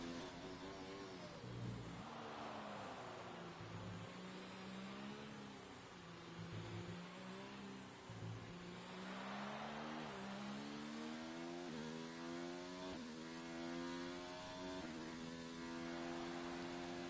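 Race cars lapping the Mexican Grand Prix in a PS4 racing game, engines droning steadily with rising and falling pitch as cars pass and shift, a continuous layered roar with no talk.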